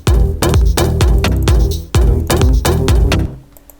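A Dutch big room drum loop, punchy snare hits over a thick low kick, repeating in a steady fast pattern for several bars before cutting out near the end, loud and alone.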